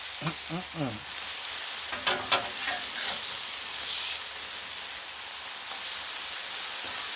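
Smash burgers sizzle on a Blackstone griddle in a steady, close frying hiss. A metal spatula scrapes briefly near the start, with faint talk early on.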